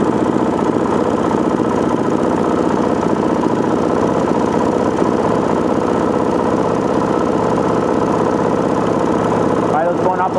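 Gen II four-stroke engine idling during carburetor tuning, a loud steady mid-pitched chug that runs unbroken throughout, close by, with a brief shift near the end.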